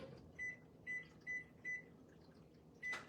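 A microwave oven is being set to high power for ten minutes to cook mushroom soup in a Tupperware pressure cooker, giving four evenly spaced short beeps followed by a fifth beep, over a faint hum.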